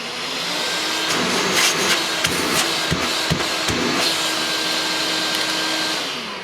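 A Bosch Athlet Pro Animal cordless upright vacuum cleaner runs on its turbo setting, a loud steady whine and rushing airflow heard close with a few thumps and suction shifts partway through before the motor winds down.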